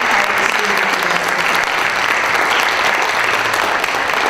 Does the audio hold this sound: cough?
no